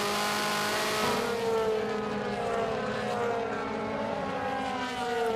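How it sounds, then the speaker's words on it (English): On-board DTM race car at the Red Bull Ring, Spielberg, with Timo Scheider driving on option tyres: a loud, steady high-revving engine drone with harmonic whine rising and falling slightly, alone throughout. "So racing on board with Timo Scheider."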